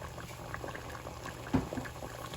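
Salmon simmering in coconut curry sauce, a soft steady bubbling close by at low volume, with one slightly louder pop partway through.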